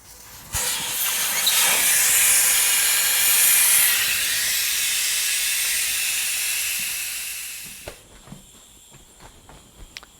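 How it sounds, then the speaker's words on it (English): Air hisses loudly and steadily out of a car tire's valve stem with the valve core removed, a broad rush lasting about seven seconds before cutting off, followed by faint handling clicks. "Spin that thing out and let all the air out of this thing using the valve core remover"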